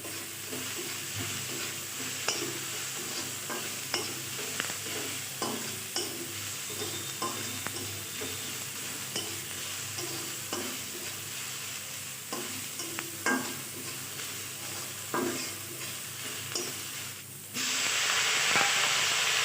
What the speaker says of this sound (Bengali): মাঝখানে চিড়ে রাখা লঙ্কাটা আমি এখন দিয়ে দিলাম পেঁয়াজের সাথে ভেজে নেব